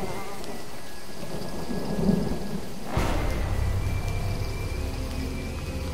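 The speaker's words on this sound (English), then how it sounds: "At least... the rain's easing up." Rain and thunder in the video game Jurassic Park The Game: a constant rain bed with a low rumble of thunder swelling near the middle, and a buzzing insect-like drone layered on top.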